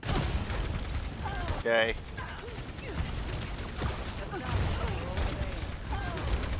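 Gunfire in Overwatch aimed at the enemy tank, repeated game shots and impacts running continuously under a voice, with one brief louder burst.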